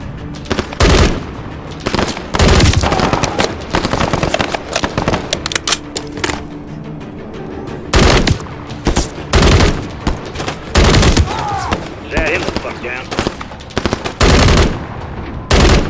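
Bursts of automatic gunfire from the video game Call of Duty Modern Warfare 3 campaign, coming in loud repeated volleys and rapid rattling strings across the whole stretch with brief gaps between them.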